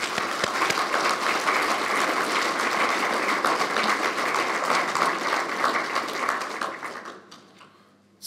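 Sustained audience applause at a scholars recognition event, steady dense clapping for about seven seconds before fading out.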